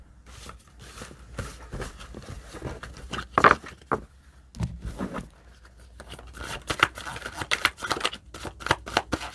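Tarot cards being shuffled in a steady stream of quick riffling clicks and slaps, close by, with a brief pause partway through.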